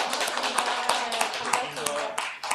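An audience claps to welcome a speaker to a tea-and-life talk, many hands clapping close and busy for a couple of seconds while a voice speaks over it.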